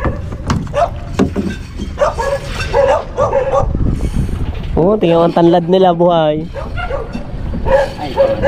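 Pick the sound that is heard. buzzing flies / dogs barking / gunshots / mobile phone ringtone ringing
dogs barking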